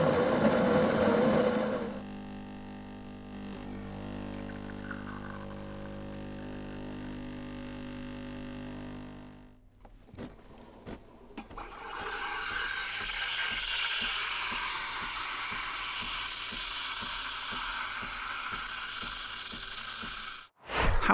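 An Oracle Jet espresso machine hums with a steady tonal drone, then shifts to a louder grinding, whirring mechanical run lasting several seconds before stopping abruptly.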